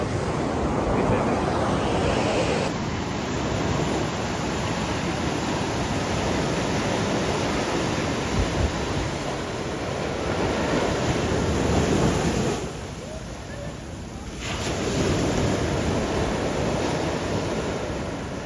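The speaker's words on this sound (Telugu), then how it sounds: "ఇదే గ్యాస్ బీచ్ యొక్క వ్యూ చూడండి బాగుంది బీచ్ అయితే" Ocean waves wash onto a beach in Pondicherry, a loud, continuous surf roar with wind buffeting the microphone and the swell easing briefly before building again.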